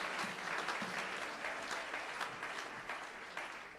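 A church congregation at a Sunday service applauds steadily, a dense roomful of clapping with faint crowd voices mixed in, keeping an even level throughout.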